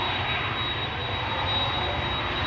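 A DHL Boeing 767 taking off from runway 24 at Schiphol gives a steady, moderately distant jet engine roar with broadband rumble and a thin high whine, continuous and without voices.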